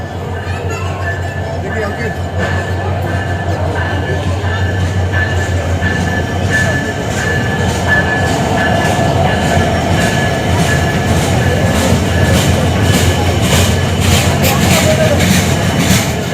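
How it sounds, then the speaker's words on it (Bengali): A Rajshahi Express local passenger train runs along the rails, a loud continuous rumble with rhythmic wheel clatter and faint squeals, heard from on board with people talking. "এটা হলো লোকাল ট্রেন রাজশাহী এক্সপ্রেস"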